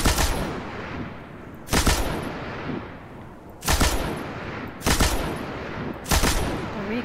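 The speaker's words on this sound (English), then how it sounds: "The recoil on this gun is pretty fierce." Heavy gunfire in the video game Destiny 2 from a hard-recoiling weapon: five loud, booming shots or short bursts spaced about a second or two apart, each decaying into a rumbling tail, with no talking.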